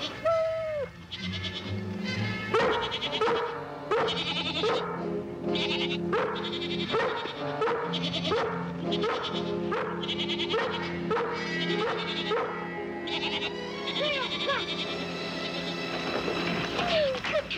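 A herding dog drives a group of goats, and many overlapping bleats rise and fall in quick succession, with occasional barks mixed in at a moderate distance.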